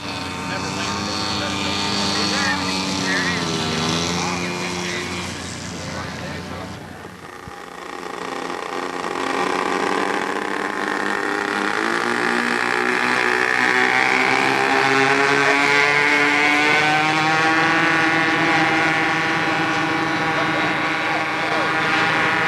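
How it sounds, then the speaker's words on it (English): A radio-controlled scale model T-28 airplane flies with its engine throttled by the pilot at a 1988 scale model competition. A buzzing, droning engine rises and falls in pitch over a sustained stretch while a commentator talks throughout. "Mel Whitley does a great job of bringing in the T-28, wisely using engine control"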